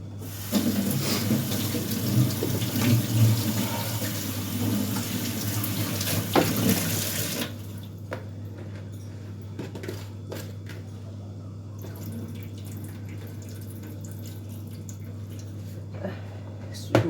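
Tap water runs steadily into a kitchen sink as rice is washed, a loud broadband rush for about seven seconds before it stops, leaving quiet room tone with a few faint clinks and drips.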